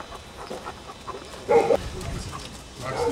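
A working dog on a training trip in Russia gives a short, loud burst of barking or yelping midway through, over a background of outdoor murmur and low noise.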